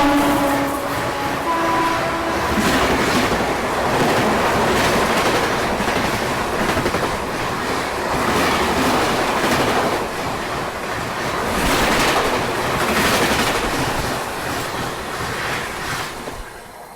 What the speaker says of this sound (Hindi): तो ये जीटी एक्सप्रेस थी